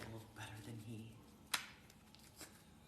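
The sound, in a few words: shuffling tarot cards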